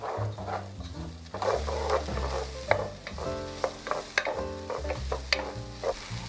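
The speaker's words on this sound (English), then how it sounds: "Now all I'm doing is heating up some olive oil and I'm sauteing the onions for about 5 minutes." Onions sautéing in hot olive oil, a steady close sizzle broken by frequent scraping and clattering strokes of a utensil stirring the pan.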